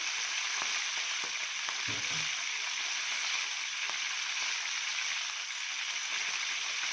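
Chicken pieces with onions sauté in a hot pan, giving a steady, even sizzle from start to end, broken by a brief clatter of stirring near the two-second mark.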